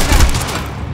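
Gunfire in the video game Quantum Break: a short burst of booming shots, loud and close at the start, then fading into a tail of reverberating echo.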